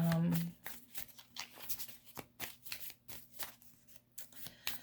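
Close, repeated riffling and snapping of a deck of tarot cards being shuffled, in quick uneven bursts, with a short voice at the start.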